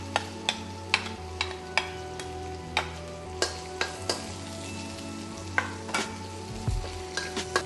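Onion and garlic stir-frying in chicken fat over medium-high heat for a chicken curry, a steady sizzle broken by sharp, regular scrapes and clacks of a utensil against the pan, close and clear with no talking.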